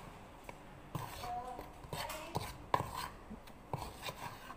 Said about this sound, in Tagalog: Haluin po muna natin yung harina at saka yung baking powder at saka yung baking soda